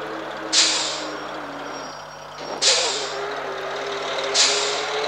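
A coach brakes in the Public Transport Simulator Coach video game, with three sharp hissing air-brake releases spaced a couple of seconds apart over a steady engine drone.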